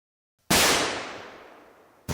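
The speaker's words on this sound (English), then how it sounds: "Thank you for the gunshot sound" A single loud gunshot sound effect played over a game stream, a sharp crack with a long fading tail, followed by the start of a second blast right at the end.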